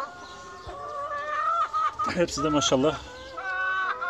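Hens raised from chicks cluck and call in a coop, with several close bird calls rising in the middle while a person talks over them.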